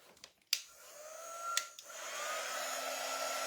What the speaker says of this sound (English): It just blows air, helps you dry it.